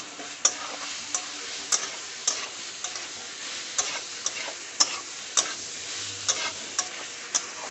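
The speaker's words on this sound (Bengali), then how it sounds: "ভেজে রাখা আলু সোয়াবিনগুলোকেও দিয়ে আমি খুব ভালোভাবে মশলার সঙ্গে কষাতে থাকবো।" Fried potatoes and soybeans stirred with spice paste in a pan for a vegetarian curry, giving a steady soft sizzle broken by sharp, irregular spatula scrapes and clicks, close up with no talking.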